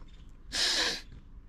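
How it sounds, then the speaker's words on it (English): A single short, sharp sniff in a dusty room full of old boxed toys, quick and fairly close, with quiet room noise before and after. "Sorry if we're having the sniffles, there's a lot of dust."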